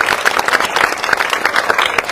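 A village gathering in Punjab bursts into loud, sustained applause: dense crowd clapping close by that keeps an even roar throughout.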